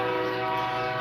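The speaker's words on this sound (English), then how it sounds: "So sorry about the train, guys." A train passing close by near a bitcoin hosting container, a loud steady rumble with strong sustained horn-like tones held through the whole second.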